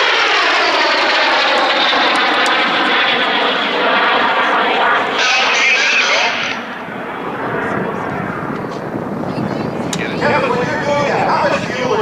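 An Aero L-39C Albatros jet trainer flies past at an air show, its loud whining jet engine sweeping by with shifting pitch while an announcer talks over the PA.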